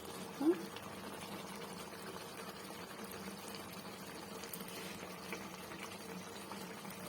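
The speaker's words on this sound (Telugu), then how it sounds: "ఇప్పుడు మసాలా వేసుకొని ఇంకొద్ది ఉడకబెద్దాం" Tamarind-leaf egg curry simmering with masala in a pan, giving a faint, steady low bubbling hiss throughout, with one brief soft knock near the start.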